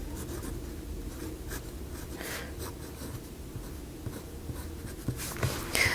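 Fountain pen with a Robert Oster shimmer ink scratching across paper, a soft continuous nib scratch with small strokes, close and quiet, no talking.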